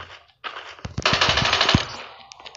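A dense burst of automatic machine gun fire in Call of Duty Mobile rattles out after a short gap, rapid rounds blurring into a loud roar that fades with echoing tail.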